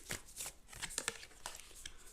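Tarot cards being shuffled by hand for a November career and finances pick-a-pile reading, a quick run of soft riffling and papery slaps repeating through the short stretch, close and fairly quiet.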